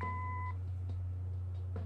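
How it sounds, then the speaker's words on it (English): Answering machine beep in the Kathy Rain Director's Cut game, a steady electronic tone lasting about half a second over a constant low hum, followed by faint soft noises. "Leave a message after the beep."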